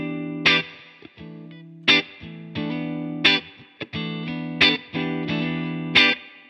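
Electric guitar played through a Supro Keeley Custom 12 amp with reverb set low, distorted chords struck in a steady rhythm about every 1.4 seconds, each ringing out with a short reverb tail, close and alone.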